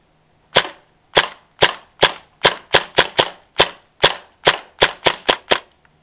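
A Tactical Force TF-11 CO2 airsoft rifle fires on semi-auto. Thirteen sharp, loud shots ring out alone in an uneven rhythm, bunching closer together toward the end, each with a short decay.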